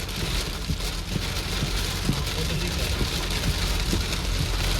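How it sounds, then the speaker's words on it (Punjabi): Heavy rain drums on a car during a downpour in Lahore, a dense, loud, steady patter with scattered heavier drops hitting close by. No one speaks. "ਕਿੰਨੀ ਬਾਰਿਸ਼ ਚੜੀ ਹੈ ਵੇਖੋ"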